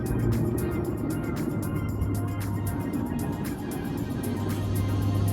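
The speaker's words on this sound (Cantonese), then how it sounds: "機油風扇打開。" The oil cooler fan on an Audi TT Mk2 sports coupe runs as a loud, steady whirring drone with a faint rapid ticking above it, continuous throughout.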